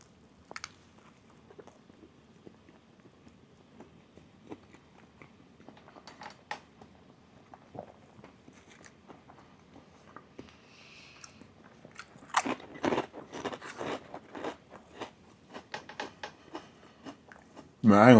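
Close, crunchy bites into a soft-bun double cheeseburger with pepper jack cheese, then wet chewing in a quiet room. Faint rustles come first, and the louder biting and chewing follow later, ending in a sharp burst.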